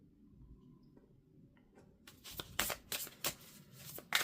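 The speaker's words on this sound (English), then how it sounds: "going to pull some oracle cards" A deck of oracle cards is shuffled close by, with soft riffling and tapping bursts in the second half after a quiet start, and no one speaking.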